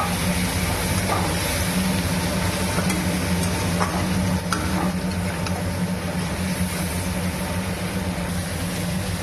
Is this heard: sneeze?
no